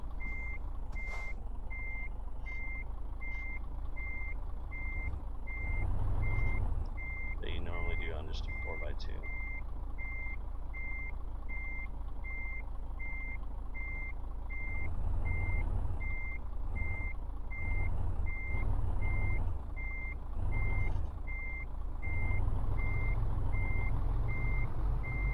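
Repeated electronic reversing beeps from a truck in Euro Truck Simulator 2, steady evenly spaced tones over a low engine drone, with someone talking at times over the engine.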